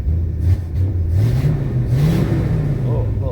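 The engine of a 1965 Pontiac Catalina Safari Wagon, likely still holding old fuel, runs close by with a low, uneven rumble that wavers and stumbles as its pitch rises and dips across a few seconds.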